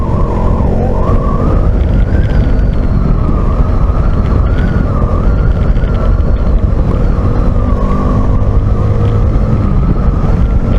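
A 400 cc motorcycle is ridden up a mountain road toward the Babadağ summit near Fethiye, its engine droning loud and steady under heavy wind rush, with no talking.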